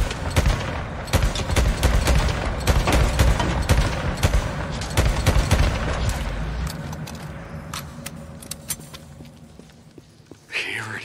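Rapid gunfire in the video game Days Gone during the final boss fight against Skizzo, dense bursts of loud shots crowding the first half, then thinning into scattered single cracks and footsteps, with speech mixed in.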